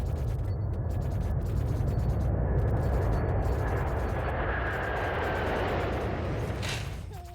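A steady, loud roar of a plane flying in a video game, broad and continuous throughout, with a faint rising whine near the end.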